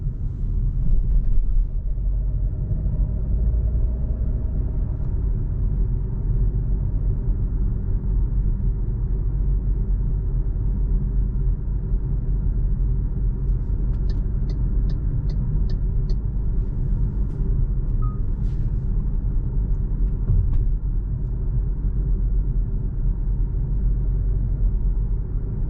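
MG HS Luxury 2025 petrol SUV driving at night, heard from inside the cabin: a steady low engine and road rumble holds throughout, with faint ticking clicks in the middle and no talk.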